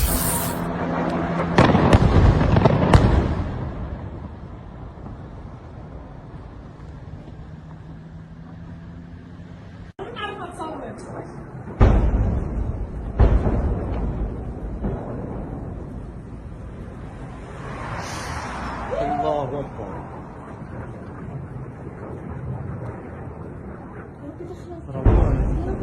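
Sharp blasts from Israeli strikes on Lebanon, several loud booms early on, another around twelve seconds and one near the end, with rumbling and crackling between and faint voices calling out amid the noise.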